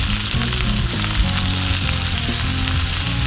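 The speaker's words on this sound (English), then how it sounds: "that's the time we're putting in our shrimps" Shrimps fry with garlic in a pan while being stirred, a loud, close, constant sizzle and crackle that runs unbroken throughout.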